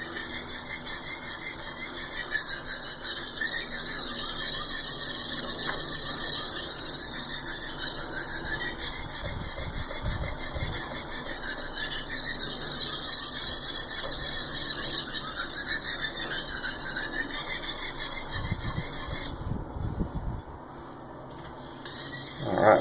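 A knife blade is sharpened on a whetstone in long, steady rasping strokes, rubbing with a faint high squeal and repeating in a slow back-and-forth rhythm up close, with a few soft knocks.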